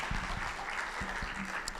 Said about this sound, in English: A round of applause for Moses.